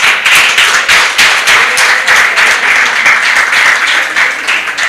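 A conference hall audience applauds Mercy Okiro at a FIDA-Kenya opening ceremony, dense sustained clapping from many hands, loud and even for the whole stretch.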